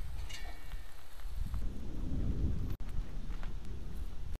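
Outdoor evening barbecue in a rural northeast China yard: rain falls steadily, and a low roll of thunder swells in the middle before a sharp break, with no talk over it.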